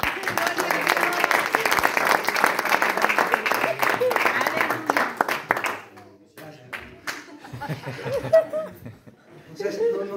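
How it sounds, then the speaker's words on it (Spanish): Church congregation applauding the Lord during a Spanish-language sermon, a dense burst of clapping mixed with cheers and chuckles that fades after about six seconds into scattered claps and murmuring voices. "Dale un fuerte aplauso al Señor"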